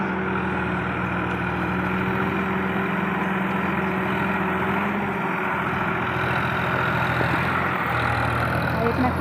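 A tractor engine running in a farm field during ploughing, a steady low drone heard continuously with a person talking over it.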